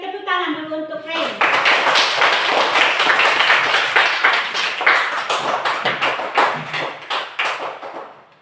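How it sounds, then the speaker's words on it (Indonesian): A classroom group breaks into applause for a student named Ray: after a brief spoken line, many hands clap in a dense, lively burst that gradually thins into scattered claps. "kita beri tepuk tangan dulu untuk Ray"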